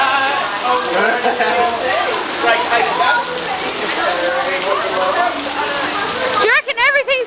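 Heavy rain falls at a small outdoor school, a constant loud patter and hiss of drops close by. Voices talk over it throughout, and splashy hits cluster near the end.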